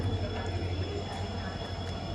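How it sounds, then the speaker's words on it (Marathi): A train arriving at a railway station gives a steady low rumble and hum, close and continuous, with a faint high tone above, on a student's commute. "एनिवेज ट्रेन आली"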